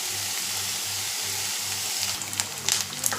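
Onions sizzling as they fry in a pan for egg gravy, a dense, loud, steady hiss with a low rhythmic hum beneath and some clinks and splashy pops toward the end.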